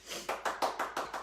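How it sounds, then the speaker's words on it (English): A small live studio audience claps briefly, about six distinct, fairly faint hand claps in a loose rhythm with no voices. "Some applause."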